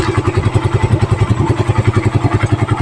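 A Suzuki Raider 150 motorcycle engine with a rejetted carburetor and 28mm round carb idles steadily up close, its loud, even low-pitched putter holding a fast regular rhythm with no revving.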